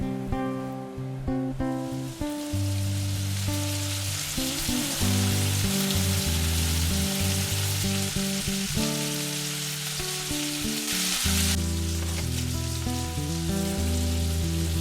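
Potato pieces fry in bacon fat in a pan with a dense, continuous loud sizzle and crackle close up, steady throughout with a brief swell near the end.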